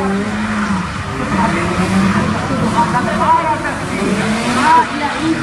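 A Mazda Roadster drives at the Tokyo Auto Salon, its engine droning steadily with tire noise and a brief squeal, while people talk over it throughout.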